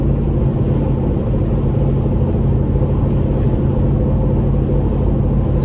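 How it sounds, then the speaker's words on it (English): Wind noise fills a car cruising at about 70 to 75 mph on the highway with a Magnaflow Overland Series exhaust: a loud, constant broadband roar and low rumble, unbroken and steady. "There is quite a bit of wind noise."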